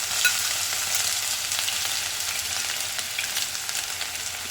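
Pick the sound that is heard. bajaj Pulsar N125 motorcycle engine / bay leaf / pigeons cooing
bay leaf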